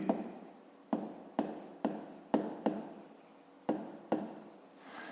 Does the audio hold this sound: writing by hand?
yes